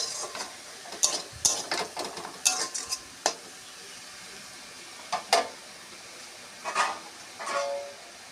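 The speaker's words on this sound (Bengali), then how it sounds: "শাকটা একটু ঢেকে ঢেকে ভাজতে হবে।" Pumpkin greens fry in a covered pan at home, a soft, steady sizzle broken by sharp, irregular clinks and scrapes of a metal spatula and lid against the pan.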